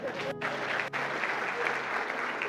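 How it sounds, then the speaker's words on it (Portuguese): A church audience breaks into brief, dense applause, a steady burst of clapping lasting a couple of seconds with a short dip partway through. "Uma salva de palmas para ela."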